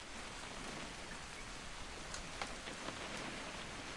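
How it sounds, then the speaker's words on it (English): Steady rain falls in the video game What Remains of Edith Finch, a constant soft patter that fills the scene evenly with a few slightly sharper drops standing out, and no voices. "It's gonna rain the whole weekend, isn't it?"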